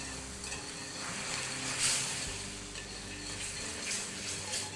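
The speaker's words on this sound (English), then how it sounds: "bring it together with a whisk" Blue cheese crumbles and a pat of butter are whisked into a red wine reduction for a blackened steak sauce, giving a soft, steady sizzle and scraping swirl in the pan, fairly quiet and continuous with no talking.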